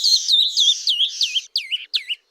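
A canyon wren sings loud and close, a run of bright descending whistled notes that repeat quickly and then break into a few separated phrases.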